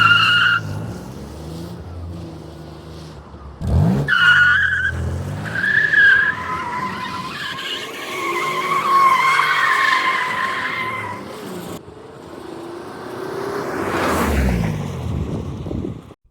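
A 1984 Nissan 300ZX Turbo driving past, engine revving and pulsing as it accelerates and shifts, rising and falling in pitch with tire noise and wind, loud and close.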